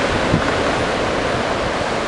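Ocean waves breaking at a small-surf beach spot in Anglet, a steady wash of surf hiss mixed with gusty wind noise on the microphone, continuous and fairly loud with no talk.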